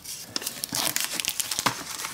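Paper packaging around a banknote bought at an online auction is crinkled and unwrapped up close, with a run of sharp crackling rustles and small tearing bursts and no talk.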